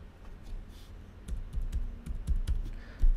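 Keys tapped on a computer keyboard while a master password is entered, a quiet, uneven run of clicks with short pauses, sounding close by.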